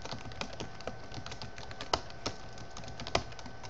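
Quick, soft clicking of fingers on a computer keyboard while signing up for Twitter, a fast uneven patter of keystrokes with a few sharper presses, close and quiet, with no talking.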